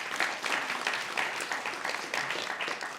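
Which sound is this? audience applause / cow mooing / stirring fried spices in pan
audience applause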